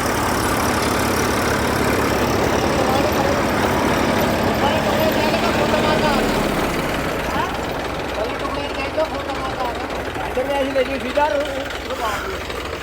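Massey Ferguson 241 and New Holland tractors plowing a field side by side, a steady diesel engine drone running throughout and easing slightly partway, with someone talking over it.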